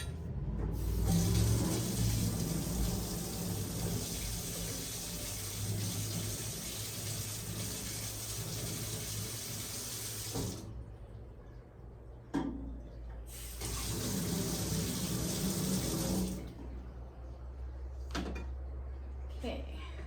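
Water runs from a tap while a container is rinsed out, a steady hiss that stops briefly and resumes, with clunks of handling and someone speaking in between.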